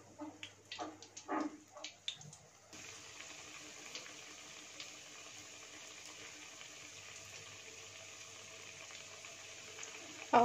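Potato patties sizzle in hot oil with a quiet, steady frying hiss, after a few soft clinks and handling noises at the start.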